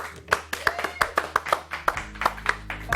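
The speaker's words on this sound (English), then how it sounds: "There's 3 people clapping" A few people clap close by in a loose, uneven rhythm of sharp individual hand claps, with a low hum joining beneath them toward the end.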